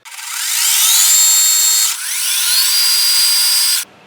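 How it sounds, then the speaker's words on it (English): A high-pitched metal lathe whine spins up and holds twice, a close, steady center-drilling drone that cuts off abruptly at the end. "We're going to center drill so we can pull it out and support it."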